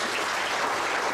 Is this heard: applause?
yes